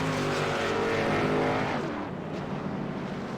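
Race cars roar steadily around the track at close range as a dozen or so drivers run two by two mid-race, a continuous loud engine drone that eases slightly after a couple of seconds, with no talk.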